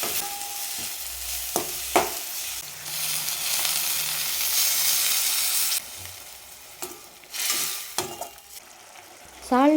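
Masala with mint and coriander sautéing in a pan for a roadside-style veg salna, a steady frying sizzle with stirring scrapes and a few utensil clinks throughout, close and fairly loud.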